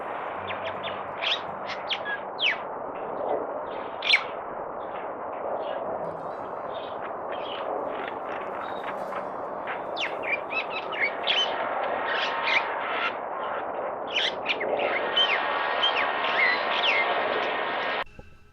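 A single myna bird gives a long, unbroken run of varied whistles and chirps, continuing without pause against a quiet outdoor park backdrop in Bishan Ang Mo Kio Park.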